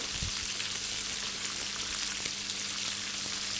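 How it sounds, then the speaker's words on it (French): Quail and liver cooking together in a pan over fairly high heat, giving a steady, close, dense sizzle that holds at an even level throughout with no voices. "On laisse tout ça mijoter ensemble. À feu assez vif quand même."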